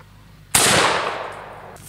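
A shotgun loaded with buckshot fires into ten layers of denim outdoors: a single sharp, loud blast that cuts in abruptly and rings out briefly before fading.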